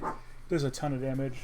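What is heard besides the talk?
dog barking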